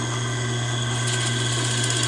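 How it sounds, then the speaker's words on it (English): Drill press boring a 3/4 inch hole with a Forstner bit, a steady mechanical hum with a constant motor drone and a slight rise in cutting noise partway through, close and continuous with no talking. "This is a Forstner bit, so it cuts a perfect 3/4 inch hole."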